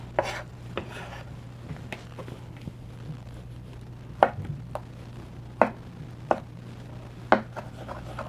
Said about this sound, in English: So we're just dicing this.